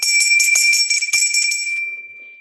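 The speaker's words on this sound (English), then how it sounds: "This morning I ring my pilgrim's bell for our desire for peace on this earth" A pilgrim's bell is rung in a rapid, close jingle of repeated strikes, then left to ring out in a clear sustained tone that fades over the last second, with no talk.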